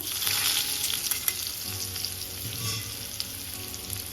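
Boiled raw mango pieces drop into a pan of sizzling spices and asafoetida, setting off a bright, continuous frying hiss with a few light clinks and spatters, close and without any voices.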